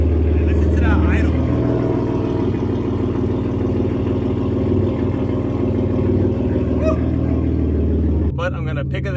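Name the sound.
tuned car engine idling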